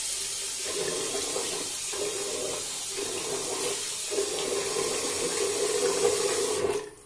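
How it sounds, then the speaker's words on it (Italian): Tap water runs steadily into a bathroom sink before a wet shave and is splashed onto the face, giving a loud, close rushing sound with a few rhythmic dips, and then it stops abruptly. "Aggiungo un po' d'acqua al viso."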